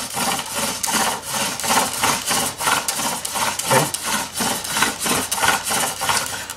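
Wooden spindle spun for a friction fire, its rhythmic rasping strokes repeating steadily at close range, loud and even with no talk over them.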